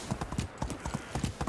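A horse's hooves clip-clopping at a steady walking gait in the medieval farming game Medieval Dynasty, even rhythmic knocks close up, with no voice over them.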